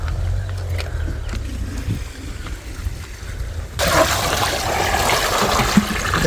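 Water from a tub splashes onto fenugreek plants in a sudden steady gush that starts partway through, following a quieter stretch of faint trickling and background noise.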